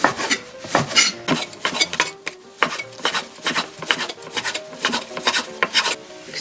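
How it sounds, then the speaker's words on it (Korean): Repeated knife strokes slicing beef into strips on a cutting board, a steady series of crisp taps and scrapes close by, with no talking. "채를 썰어주세요."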